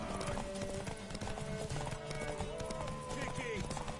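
Horse hooves clip-clop at a gallop during a race, steady and busy throughout, mixed under excited shouting voices and a loud crowd.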